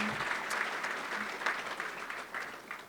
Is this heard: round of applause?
yes